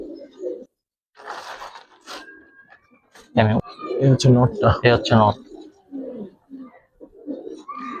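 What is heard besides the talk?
pigeons cooing in a loft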